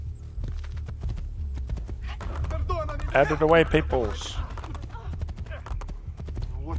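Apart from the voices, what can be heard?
horse hooves clip-clopping in Assassin's Creed II video game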